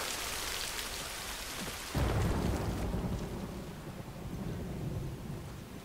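Steady heavy rain and a deep rumble of thunder fill a stormy scene in the video game The Last of Us, the thunder swelling suddenly partway through over the constant downpour.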